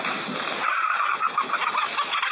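Chickens in a 1946 BBC radio drama of Our Town by Thornton Wilder, a continuous flock of clucking and chattering over a dense, bright background for the whole stretch.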